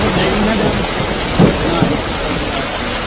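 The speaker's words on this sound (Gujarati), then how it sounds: "હાલોલમાં મેઘરાજા મન મૂકીને વરસ્યા।" A heavy downpour at Pavagadh, a dense, steady roar of rain hitting surfaces, with a faint low rumble partway through that may be distant thunder.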